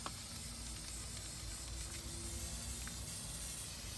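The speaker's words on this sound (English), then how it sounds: "I'm just going to take my white paint and go ahead and spray paint the whole thing." A soft, continuous hiss of an aerosol spray can, faint and steady for several seconds with light background noise and no talking.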